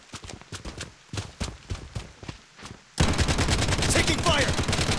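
Gunfire in Project Bloodstrike, a shooter video game: close, rapid single shots in a quick rhythm, then a sudden dense, loud burst of continuous automatic fire that fills the rest of the moment.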